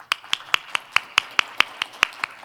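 Clapping at a conference forum session as a guest speaker is welcomed: a steady series of about eleven sharp, evenly spaced claps, close and fairly loud, sounding like one or a few people rather than a full crowd, with no talk.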